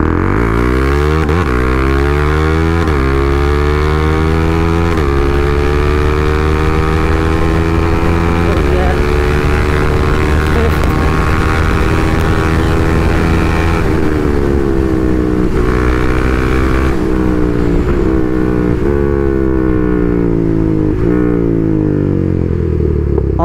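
Loud, close KTM Duke 390 Stage 2 engine under riding, revving up repeatedly with quick upshifts through the quickshifter, pitch climbing then dropping at each gear change, steady roar throughout.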